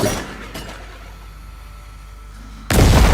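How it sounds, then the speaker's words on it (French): In the video game Fortnite, a grenade goes off as a sudden, loud, booming blast near the end, after a few seconds of quieter rumbling game ambience. "ça c'est une sorte de grenade"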